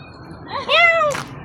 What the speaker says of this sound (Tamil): and there is a gate